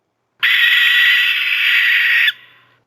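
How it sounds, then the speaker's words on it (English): A single barn owl call, one loud, harsh, hissing screech held for about two seconds before cutting off into a brief fading echo. "Barn owl."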